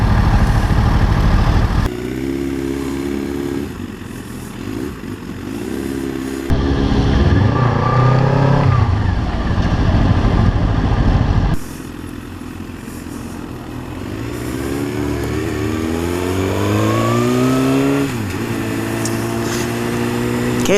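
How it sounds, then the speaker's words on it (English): Heavily modified Suzuki GSX-R 1000 sport motorcycle being ridden, its engine droning loud and close with repeated rises and falls in pitch as it revs, shifts gears and accelerates. "We're on SuperbikeShaun's GSX-R 1000, heavily modified."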